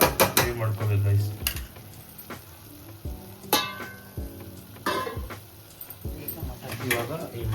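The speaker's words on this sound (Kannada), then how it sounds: "ಹಸಿ ವಾಸನೆ ಎಲ್ಲ ನೀಟಾಗಿ ಎಣ್ಣೆ ಬಿಟ್ಕೊಳ್ಳೋತಂತ ಫ್ರೈ ಮಾಡ್ಕೋಬೇಕು" Spice masala frying in oil in a pan for mutton sambar, with a soft sizzle under clattering stirs and scrapes of a utensil against the pan, sometimes with a voice talking nearby.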